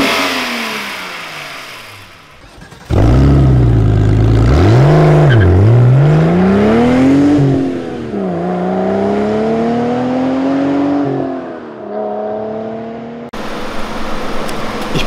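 A naturally aspirated VR6 engine in a Volkswagen Golf revs hard in repeated rising and falling bursts, loud and close, then settles into a high sustained drone before cutting off.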